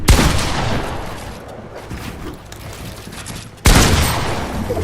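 Shotgun blasts in the Fortnite battle game, a sharp loud report at the start and another abrupt heavy blast near the end, with dense gameplay noise between them.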